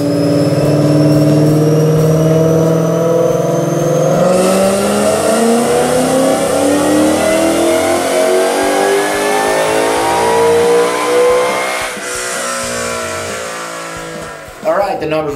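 A 2016 Mustang GT fitted with a Roush TVS supercharger and a stock twin 60mm throttle body revs loudly on a dyno, its engine note climbing steadily through a long pull before dropping off near the end.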